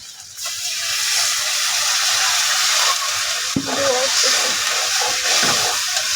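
Water poured into a pan of fish and water spinach (kolmi shak) frying in oil sets off a loud, steady sizzle and hiss that continues throughout, with a brief clatter of stirring partway through.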